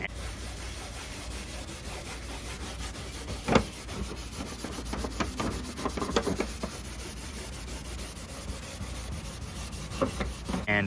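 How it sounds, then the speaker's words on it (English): Scotch-Brite pad scrubbing the front deck of a 1998 Carolina Skiff J16 before priming and painting, a steady close rasping rub with repeated strokes and a few sharper scuffs, no talking. "I'm gonna Scotch-Brite this thing up, try to clean this thing up a little bit more"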